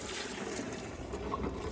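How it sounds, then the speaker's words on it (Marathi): Steady wind rushes across the microphone in a low, continuous roar beside a village well, with a faint watery wash beneath it. "वारा आहे, आवाज आहे"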